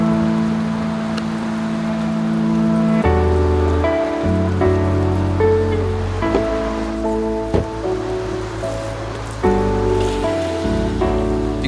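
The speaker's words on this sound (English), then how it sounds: "it started to rain." Rain falls outdoors, a steady hiss of drops spattering on surfaces throughout, with other broad background noise mixed in.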